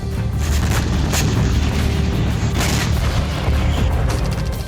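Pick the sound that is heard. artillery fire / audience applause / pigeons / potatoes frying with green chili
artillery fire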